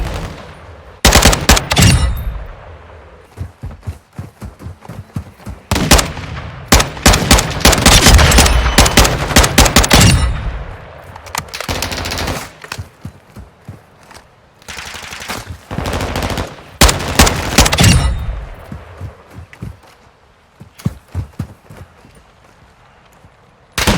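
Video game gun fired from the hip in rapid automatic bursts, loud, close repeated cracks separated by short pauses, no talking over them.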